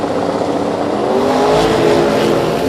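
Drag race cars, a Mopar against a Vega, launch at a drag strip with a loud, continuous engine roar and rising rev, heard close and dominating the whole stretch, with no talk.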